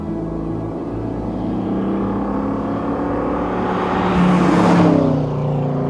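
Loud, rumbling engine of an old Ford Mustang idling steadily, rising into a brief rev before settling back to a deep, throaty hum.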